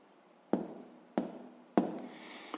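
Pen writing down a point's coordinates in a sixth-grade maths exercise, three short distinct strokes on paper about half a second apart, close and fairly quiet in a silent room.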